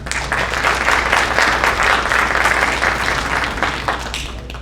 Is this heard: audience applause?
yes